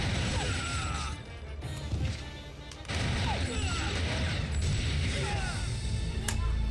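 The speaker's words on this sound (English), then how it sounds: "Gotta wait until they're done shooting." Tommy gun fire in the video game TimeSplitters, a steady clatter of rapid shots and mechanical noise running through the whole stretch, moderately loud and constant.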